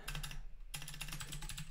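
Quiet computer keyboard typing while entering code for an iOS app in Xcode: soft, rapid key clicks in a steady run, a brief pause midway, then more keystrokes, close and low in level.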